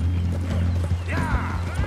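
A horse's hooves clip-clop steadily in Red Dead Redemption II, mixed with game ambience and a brief whinny-like sweep near the end.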